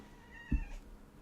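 A pet cat named Inky lets out a single short meow, close by and fairly quiet, in an otherwise still indoor room.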